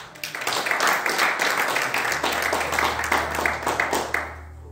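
A church congregation claps together in a steady rhythm, acclaiming the king, with the applause loud and sustained before fading, and a low hum running underneath.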